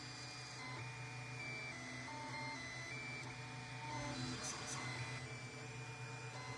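A 3D printer building a Dalek model at 0.2 mm layer height hums steadily with shifting whining stepper-motor tones, moderately loud and continuous throughout.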